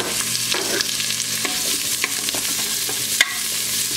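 A thread of olive oil with onion added crackles loudly in a pan, a dense continuous sizzle broken by irregular clicks and scrapes of stirring, close up with no voices.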